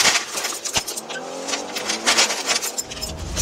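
A car fleeing police hops a curb, loses control and spins out, with engine roar and tire noise rising and falling over a few seconds, fairly close and loud.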